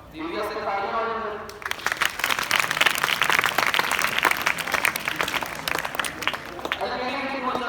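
Applause breaks out at a school event in a Punjab village near Ludhiana: a long, dense burst of many hands clapping, loud and steady for several seconds, with voices at the start and end.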